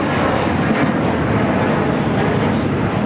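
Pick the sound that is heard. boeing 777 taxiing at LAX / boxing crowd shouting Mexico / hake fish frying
boeing 777 taxiing at LAX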